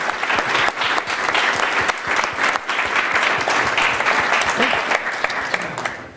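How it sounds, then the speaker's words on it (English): Sustained, dense applause fills a PHP UK Conference 2013 hall for a speaker after his talk, the many hands clapping steadily and evenly throughout, with a voice faintly mixed beneath. "A round of applause, I think, for Bastian."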